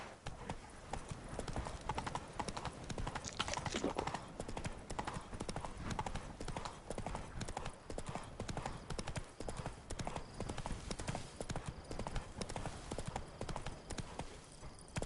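Roach the horse from The Witcher 3 trots along in a fast, continuous clip-clop of hoofbeats, steady and fairly loud throughout.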